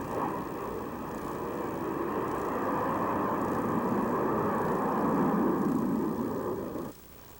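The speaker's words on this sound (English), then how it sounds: "attack aircraft in NATO today are the Tornado and the F-111." A Tornado or F-111 attack jet engine roars in a steady, loud broadband rush that holds for about seven seconds and then cuts off abruptly near the end.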